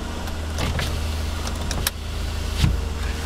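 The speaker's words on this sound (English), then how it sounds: "the front windows are automatic in both directions" Power windows on a 2010 Chevrolet Impala whir as they move, heard over the car's steady idling hum, with a few faint clicks and knocks along the way.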